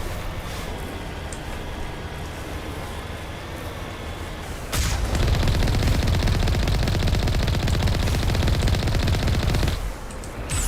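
Rocket fire in Mass Effect, a sudden loud onset of dense, rapid booming volleys that roar continuously for several seconds over a quieter rumbling background, then cut off abruptly.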